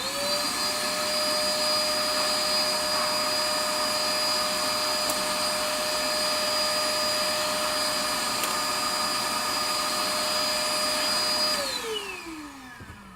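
A shop vac runs steadily and loudly while vacuuming out a Williams Travel Time pinball machine, a constant high whine holding for about eleven seconds before the motor winds down and spins to a stop.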